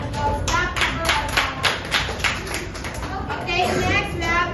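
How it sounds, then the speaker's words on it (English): Classroom applause for a student group after a presentation, a small cluster of distinct, close hand claps in an uneven rhythm, with children's chatter and voices mixed in. "let's give them a round of applause"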